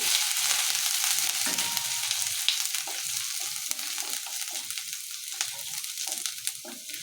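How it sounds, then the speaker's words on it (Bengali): Ginger and cumin fry in a little oil while a wooden stick stirs them, giving a continuous close sizzle with soft scraping and stirring movements through the seven seconds, no talking. "আমি কাঠি দিয়েই একটু নাড়াচাড়া দিয়ে নিই, ভাজা ভাজা করে নিচ্ছি।"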